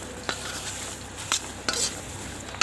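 Peeled garlic cloves tossed and mixed with flour and salt in a bowl, giving faint rustling and a few sharp clinks and taps at scattered moments, no talking.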